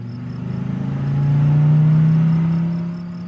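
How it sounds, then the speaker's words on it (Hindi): A motor vehicle engine drones steadily while a motorcycle follows a car on a road. The engine swells in a smooth rev that peaks midway and then eases off, loud and close, with no talk over it. "कोई मोटरसाइकिल पर सवार होकर हमारी कार का पीछा कर रहा है"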